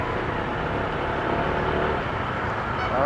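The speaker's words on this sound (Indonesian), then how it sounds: "Ada truk. Kenceng banget bunyinya." Loud, steady rumble of a truck passing close on a road outside the city, heard from a Honda Vario 160 scooter riding nearby, with continuous engine and wind roar throughout.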